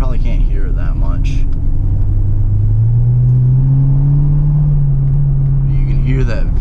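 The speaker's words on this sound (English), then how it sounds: "You can hear that V8 definitely sounds very nice." A 1999 Chevrolet Corvette C5 with a V8 and modified exhaust drones low from inside the cabin while driving, the engine note rising gradually in pitch as it accelerates over a steady road rumble, with a voice briefly at the end.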